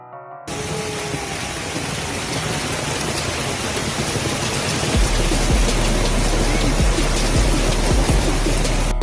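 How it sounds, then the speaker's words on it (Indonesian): Tennis-ball-sized hail pounds down in Mason County, Texas, in the United States: a dense, loud, steady roar of impacts starts abruptly, with heavier thuds striking near the end and no voices. "Hujan es Amerika Serikat."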